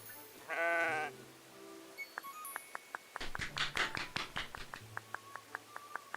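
In the video game Tales of the Shire, a sheep lets out one clear, wavering bleat, followed by a string of light, quick taps and claps close by in a quiet farm scene.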